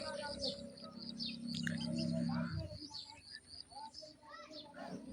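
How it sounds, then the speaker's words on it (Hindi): Pigeons in an outdoor pigeon-flying competition give scattered chirps and soft coos over a low background hum, with intermittent faint voices nearby. "कबूतर फिर से ऊपर चले गए"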